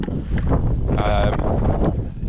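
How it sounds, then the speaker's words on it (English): Steady wind buffets the microphone on a harbour breakwater at Holyhead, a loud continuous rushing roar throughout with no pauses. "You might be able to hear a bit of wind here"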